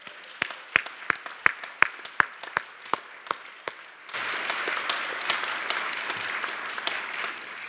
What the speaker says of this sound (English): Let's do another round of applause for everyone